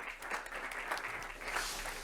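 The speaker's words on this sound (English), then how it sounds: "Big round of applause." An audience claps steadily throughout, dense and continuous, in a hall at an automotive industry event.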